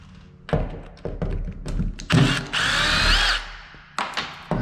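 A cordless power drill backs out door handle screws in several short whirring bursts, with one longer sustained spin in the middle and light clunks from the handle hardware between runs.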